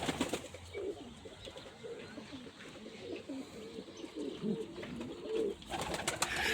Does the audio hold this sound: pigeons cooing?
yes